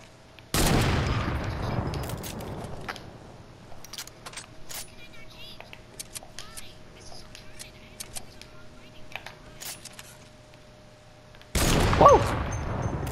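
Sniper rifle shots in a video game sniper battle, sharp broadband cracks near the start and again near the end, with scattered clicks and faint clatter in between.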